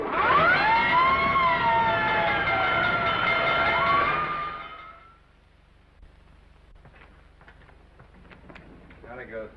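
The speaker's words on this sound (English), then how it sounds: "looks as if I finally get my ride on a fire engine" A loud fire engine siren wails with rising and falling tones for about five seconds, then cuts off, leaving quiet background with faint scattered noises.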